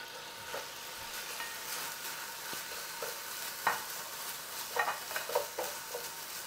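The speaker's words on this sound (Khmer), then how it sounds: "ឥឡូវយើងគិតថាកាពិយើងភ្លក់ល្មមហើយយើងចាប់ផ្ដើមចាក់បាយចូល" Rice being stir-fried with Thai shrimp paste (kapi) in a pan, a soft steady sizzle with scattered scraping and stirring clacks of a utensil, close and without talk.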